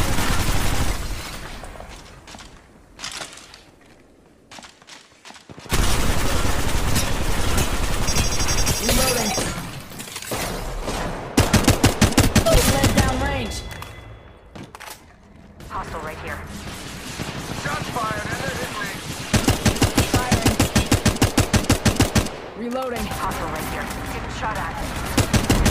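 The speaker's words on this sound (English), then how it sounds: "Taking fire! Firing." Bursts of automatic gunfire in the mobile battle royale game Apex Legends Mobile, loud rapid volleys in several stretches separated by quieter gaps, with game announcer callouts between.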